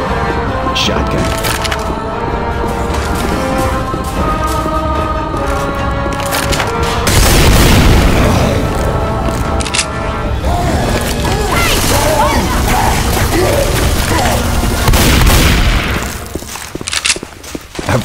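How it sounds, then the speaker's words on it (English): Pipe bomb detonations in Left 4 Dead 2 produce loud booms and sharp cracks amid chaotic gunfire and in-game noise, with people talking over the action. "Throw the pipe bomb!"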